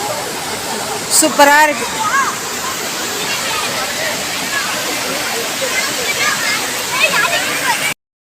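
River water rushes in a rocky hill area, a continuous loud roar close by, with a person talking briefly over it near the start.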